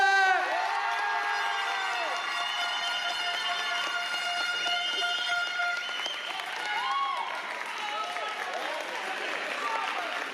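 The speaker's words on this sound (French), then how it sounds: "donnez un applaudissement s'il vous plaît" An audience at a 2024 school competition final applauds and cheers a contestant, a steady dense roar of clapping and crowd noise lasting throughout, with tonal whistling or music lines threaded over it.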